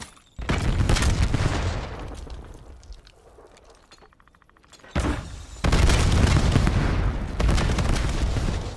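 A Semtex grenade detonates in a first-person shooter game, a loud booming blast with shattering debris, then a quieter lull before more heavy gunfire and explosive bursts erupt close by.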